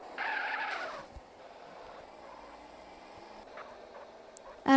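A car in the video game GTA San Andreas accelerates and skids, with a tire squeal near the start followed by a quieter engine rumble and a sharp sound at the very end.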